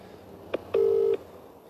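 A telephone keypad sounds two quick dialing tones, a brief beep followed by a longer steady tone lasting under half a second, close and clear over a faint background hum.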